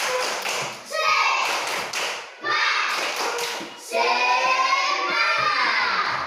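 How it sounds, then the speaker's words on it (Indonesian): A primary school class claps together in a patterned spirit clap, bursts of rhythmic hand claps and taps alternating with children chanting in unison, close and lively. "sekarang kita tepuk semangat dulu sebelum masuk ke LKPD"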